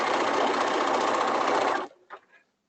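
A serger runs close and loud through stretch Lycra fabric in one continuous, even whir that stops abruptly. A few soft handling sounds follow.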